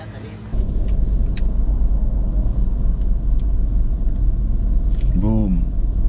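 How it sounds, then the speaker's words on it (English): Road traffic in a jam in Davao, Philippines, with a constant loud rumble of idling and creeping car engines close around, a horn-like tone briefly rising near the end. "Stuck in traffic in Davao."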